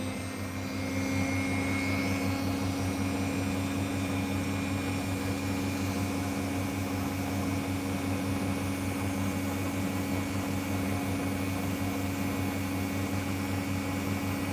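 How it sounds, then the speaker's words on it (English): A Dremel rotary tool runs steadily in a hot Australian summer setting while working opal, a constant mechanical whine with a low hum that holds evenly throughout, heard alone without speech. "the Dremel noise is a lot softer because I've got the Dremel down"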